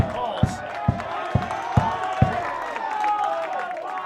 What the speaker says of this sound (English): And a raucous crowd already